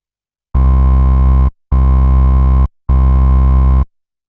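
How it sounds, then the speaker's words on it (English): Three sustained synth bass notes, full in the low end with a touch of added brightness from an EQ bass and treble boost, play one after another with short pauses between them. "Now we'll turn on the EQ effect, which will boost a little bit of the bass and the treble"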